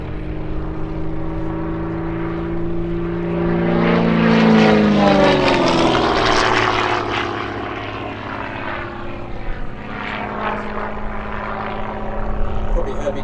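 Gamebird GB1 aerobatic propeller aircraft climbing at an airshow, its loud engine drone swelling and shifting pitch as it passes, with a continuous steady roar throughout.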